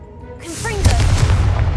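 Confringo blasting spell cast in Hogwarts Legacy, a magical whoosh rising out of near silence and bursting into a loud boom, followed by a sustained low rumble that carries to the end.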